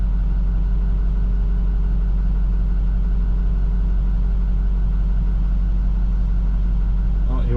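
A Chevy snow plow truck fitted with a full central hydraulic setup drives in the snow, its engine giving a steady low drone close by, with a voice talking over it.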